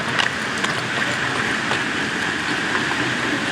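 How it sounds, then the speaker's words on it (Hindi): A train runs along a railway track above a waterfall in a jungle, giving a steady, fairly loud rumble with faint rail clatter that blends with rushing water, and no one speaks. "ये ऊपर से ट्रेन जा रही है"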